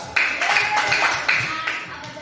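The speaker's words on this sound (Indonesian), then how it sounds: "kasih aplaus" Classroom applause from a sixth-grade class, a short burst of clapping lasting about two seconds at moderate loudness, with voices mixed in.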